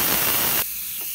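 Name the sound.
Instant Pot quick release venting steam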